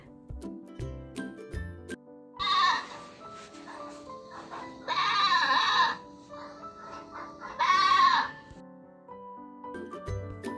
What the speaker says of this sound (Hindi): ये है बकरा, जिसे हम इंग्लिश में बोलते हैं ही गॉट।